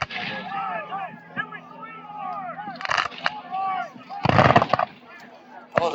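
Sharp cracks and booms of musket and cannon fire at a Civil War battle reenactment on an open field, loud scattered reports amid crowd chatter and voices talking nearby.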